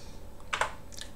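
A few quick keystrokes on a computer keyboard while navigating a Manjaro Linux setup, a short cluster of close, crisp clicks over a quiet room.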